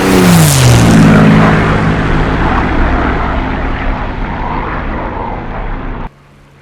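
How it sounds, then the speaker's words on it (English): A Supermarine Spitfire's liquid-cooled Rolls-Royce Merlin V12 four-stroke piston engine roars loud and close, its propeller drone holding steady and easing slightly before cutting off abruptly. "Spitfire was fitted by the liquid-cooled V12 4-stroke piston engine, the Rolls-Royce Merlin."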